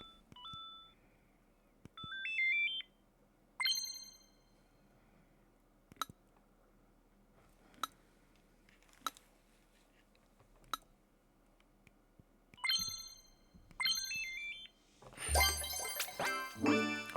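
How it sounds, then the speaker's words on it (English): A Nintendo Switch 2 controller plays tones through its HD rumble motors: short, clean beeps and chime-like melodic jingles with sharp clicks between them, faint and sparse, ending in a denser burst of sound. "They can actually make noise using HD rumble."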